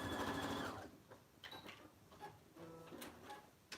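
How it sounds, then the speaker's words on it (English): A sewing machine back stitches the seam of an oven mitt, opening with a loud sustained whirring run, then a string of short stops and starts with clicks and mechanical taps, close by with no talk. "I'm gonna go ahead and kind of back stitch a little bit here on my opening"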